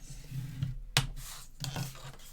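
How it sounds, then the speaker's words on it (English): Paper being scored at 7/8 inch for a handmade mini album makes a few short, close scraping strokes, with quiet pauses between them. "let's score this at 7/8"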